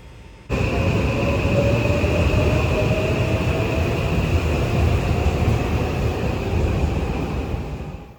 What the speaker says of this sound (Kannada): ಮಚ್ಚೇದಾಯಿಂದ ಶಿಂಜುಕ್ ಹೋಗೋ ಟ್ರೈನ್ ಬಂತು ರ್ಯಾಪಿಡ್ ಎಕ್ಸ್ಪ್ರೆಸ್